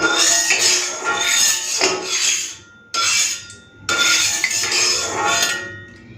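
An iron kadai is lifted and handled for cooking, giving repeated metallic clanks, scrapes and rings close by, in bursts broken by two brief pauses.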